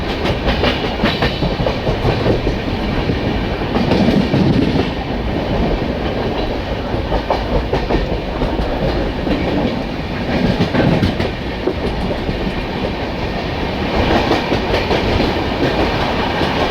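The Kamakhya–Mumbai LTT Karmabhoomi Express passenger train runs on rails with a loud, continuous rumble and steady clickety-clack of wheels, heard up close and without talking.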